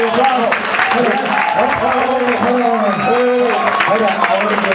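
Convention audience at Florida SuperCon giving a round of applause, continuous loud clapping with cheering voices mixed in.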